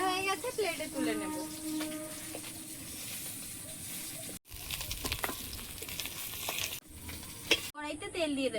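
Pieces of rohu fish fry in hot oil in a pan, a steady sizzling hiss with bubbling and stirring clatter throughout, briefly cut off a few times.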